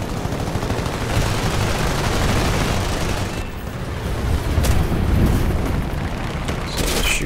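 Gunfire in the air-combat game War Thunder, an M.S.406C1 fighter in an arcade air battle: a steady, dense rattle of guns runs through the whole stretch over a constant engine roar, with a few sharper bursts near the end.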